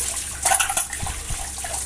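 Water splashing and running while a mixer grinder jar is washed at a kitchen sink, a couple of brief sloshing bursts followed by lighter trickling, close and fairly loud, no talking.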